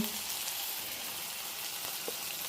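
Onions and spices frying in a pan for a potato besan curry to go with puri, a soft, steady sizzle with a faint crackle, fairly quiet and continuous.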